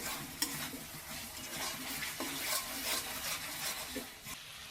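Spice masala sautéing in oil in a pan for an egg curry, a steady soft sizzle with spoon-stirring scrapes and occasional clinks against the pan, fairly quiet and close.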